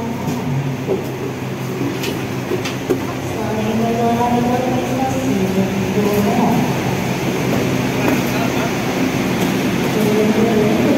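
Interior of the Manahan executive train on the Jogja–Jakarta run, a steady rumbling carriage drone with faint tonal hum and air-conditioning hiss, loudening slightly midway, no talk.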